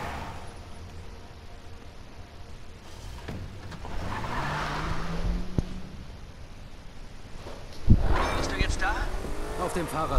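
Modified car driving in the video game The Crew: a low engine drone rising and falling, with a pitch sweep and a sharp knock near the end, under background game sounds.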